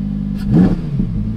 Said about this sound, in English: That's basically it, the Lamborghini Huracán Evo 2020.